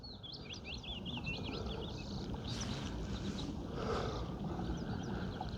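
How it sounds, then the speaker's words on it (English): A willow warbler sings a faint descending warble at a forest loch in Ayrshire, Scotland, heard briefly at a distance over steady low wind and water noise. "Do you hear that little willow warbler?"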